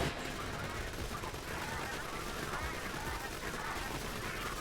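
Borderlands 2 gunfire, a dense continuous rapid-fire weapon burst with steady loud crackle throughout and no pauses.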